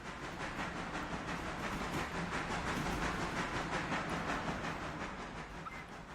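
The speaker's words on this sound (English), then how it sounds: "When the train starts moving, it sounds like someone is playing table tennis or ping pong." Train starting to move in the Railroader video game, a dense continuous hiss and rumble with fast, rapid clicking pulses running throughout, fairly faint and steady, with no talking.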